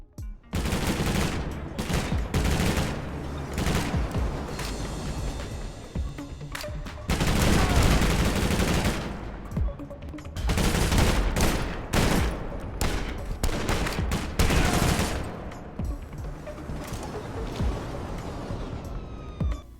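Gunfire from the Armed Heist mobile video game comes in dense bursts of rapid shots and booms, loud clusters separated by quieter gaps, with a faint siren-like tone in places.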